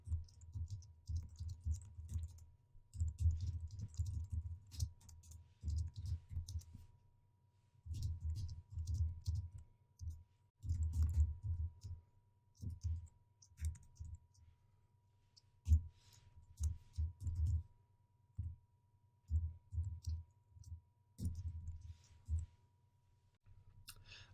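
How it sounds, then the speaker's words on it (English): Soft keyboard typing in irregular bursts of clicks, close by and quiet, with short pauses between flurries. "And I'm going to stop talking and start typing."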